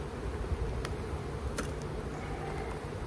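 Honey bees buzzing steadily around an open hive during a spring hive split outdoors, a continuous low drone with a few brief sharper sounds.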